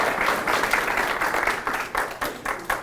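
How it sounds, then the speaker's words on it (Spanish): Church congregation applauding a speaker as they stand, a full steady roll of clapping that gradually breaks into scattered separate claps near the end. "los invito a ponerse de pie y a recibir con un aplauso"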